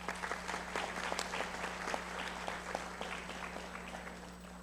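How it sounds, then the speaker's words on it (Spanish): An audience applauds the speakers of a panel on cybercrime and cybersecurity, dense clapping at a fairly faint, steady level that tapers off toward the end. "Démosle por favor un caluroso aplauso."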